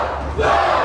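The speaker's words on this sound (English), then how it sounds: "The crowd counting them down." Wrestling arena crowd roaring in unison during a match, a dense, steady wall of voices that swells louder after a brief dip midway.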